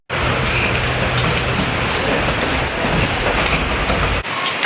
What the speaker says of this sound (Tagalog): Napatak na ang ulan.